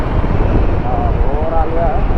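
A Royal Enfield Himalayan 450 motorcycle cruises in fourth gear at around 64, a steady engine drone heavily buffeted by wind rush, loud and continuous throughout.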